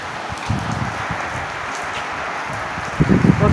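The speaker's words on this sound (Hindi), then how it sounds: "बारिश देखें जी तेज हो गई है" Steady, dense heavy rainfall in a village during a storm hisses throughout, with scattered patters and splashes close by and a louder burst of drumming near the end.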